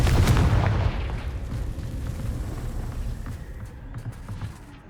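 A Confringo fire-blast spell in Hogwarts Legacy bursts with a loud booming explosion at the start, then a rumbling tail of lower crackle and debris fades over several seconds.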